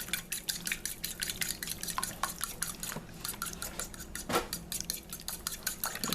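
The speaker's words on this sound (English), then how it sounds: "Actually, I'm going to mix this first." Utensil clinking and scraping in a bowl while ingredients are mixed during a kitchen product demonstration, a steady series of close taps and stirring clatter with no talking.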